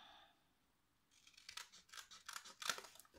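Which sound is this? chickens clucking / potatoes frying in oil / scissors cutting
scissors cutting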